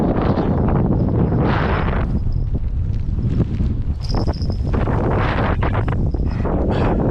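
Strong stormy wind with rain buffets the microphone on a vimba fishing trip on the Kasari river, a loud, continuous roaring rush with gusty surges and no voices.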